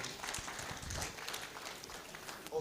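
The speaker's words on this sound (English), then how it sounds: "Please give him a round of applause." Applause from a convention audience at a Uganda diaspora gathering, a steady, fairly quiet wash of clapping lasting a few seconds with faint voices mixed in.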